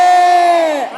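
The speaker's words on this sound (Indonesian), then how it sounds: "Tepuk tangan dong buat Ustaz Syam" A crowd at an Islamic religious gathering cheers for a preacher with one loud, sustained collective shout that wavers and fades toward the end.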